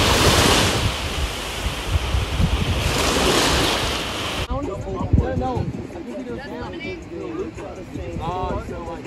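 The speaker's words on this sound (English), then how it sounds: "We made it to the beach." Ocean waves wash onto a beach with loud broadband surf and wind buffeting the microphone for the first few seconds, then quieter background wash as people talk and exclaim nearby.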